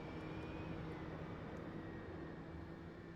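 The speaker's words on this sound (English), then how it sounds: "Unless you want to hear the nice big hums of the jet." A jet's engine hums low and steady inside the DCS flight game, a faint, constant drone with a thin whine over it and no voices.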